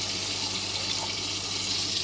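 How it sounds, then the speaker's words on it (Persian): Tap water runs steadily into a cooking pot of kofta stew in a home kitchen, a continuous close gushing stream with no talk. "الان بهش آب اضافه میکنیم"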